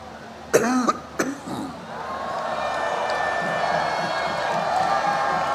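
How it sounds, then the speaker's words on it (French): A man coughs twice, sharp and close, while giving an outdoor political speech in Dabou, Ivory Coast, with a crowd murmuring in the background. "Pardonnez à la toux."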